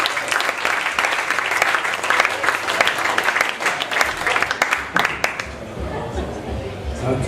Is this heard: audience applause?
yes